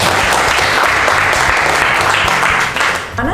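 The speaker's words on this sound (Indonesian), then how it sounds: "Kita beri aplaus." A classroom of students gives a round of applause, loud dense clapping close up that tapers off near the end.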